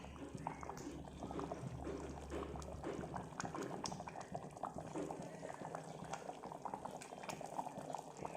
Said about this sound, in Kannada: ಇದು ಚೆನ್ನಾಗಿ ಕುದೀತಾ ಇದೆ.